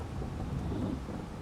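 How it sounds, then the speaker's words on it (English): Rain and rolling thunder in Farming Simulator 22 form a steady, dense low rumble with a constant wash of rainfall, heard alone throughout. "And here is the rain."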